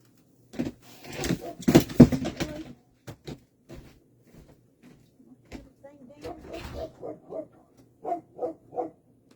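Dogs bark at home, first in a loud cluster of sharp barks and then in a later run of rhythmic barks. Someone talks over and between them.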